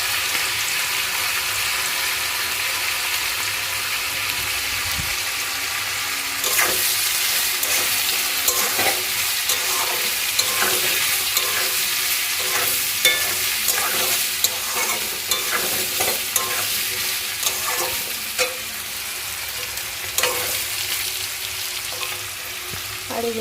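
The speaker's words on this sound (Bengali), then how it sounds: "এবারে হলুদ দিয়ে ভাজি।" Boiled potatoes with turmeric fry in oil with a continuous sizzle, and after a few seconds repeated stirring scrapes come in a loose, uneven rhythm, with no one speaking.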